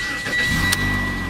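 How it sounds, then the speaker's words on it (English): A 2017 Mitsubishi Lancer ES starting with a key: a brief crank followed by the engine catching into a steady, close idle rumble, with no talking. "Alright, so we'll go ahead and start the car up."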